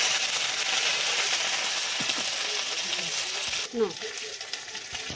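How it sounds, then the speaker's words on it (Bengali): Half a spoon of ground ginger paste fries in a pan after asafoetida, giving a soft, steady sizzle close by. Near the end a brief clatter of stirring cuts through. "দেখুন এখানে বেটে রাখা দিলাম আদা 1/2 চামচের মতো, আর একটু ভেজে নেব"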